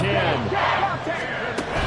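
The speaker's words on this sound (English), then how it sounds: "this crowd is making an impact right now" Stadium crowd at an American football game on a third down, a broad roar and chatter from many fans, mixed under a commentator's voice.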